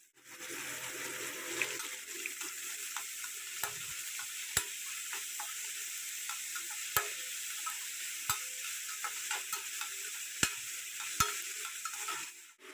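Onions fry in oil in a pan for leftover-rice tomato rice, giving a steady, moderate sizzle broken by scattered sharp pops and clicks.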